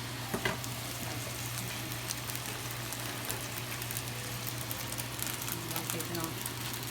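Eggs frying in butter in a pan for breakfast, a continuous soft crackling sizzle with tiny pops, steady and close under a faint mains hum, with a person talking over it.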